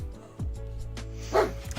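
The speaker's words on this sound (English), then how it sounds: "Apologies for the barking." A pet dog named Daruk gives a few sharp, close barks indoors in a UK home, short separate yelps spaced across a brief moment with low background hum.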